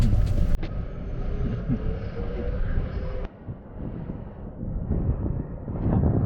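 A golf cart rolls along toward a golf practice range at a training ground in Chiang Mai, its steady low motor and road rumble mixed with wind buffeting the microphone, with a brief louder jolt at the start.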